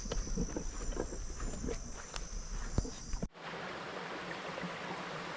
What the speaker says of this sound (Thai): น้ำตกวังกวางในช่วงเดือนมิถุนายน น้ำยังไม่เยอะ